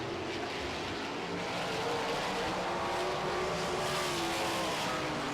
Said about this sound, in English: his engine starts to sound a little weak